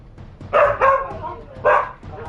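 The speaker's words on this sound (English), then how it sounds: "Quit being so mouthy. Rotten dog." A dog in the video game Kingdoms of Amalur: Re-Reckoning barks three times, two quick loud barks followed by a third after a short pause, close and clear over a quiet game background.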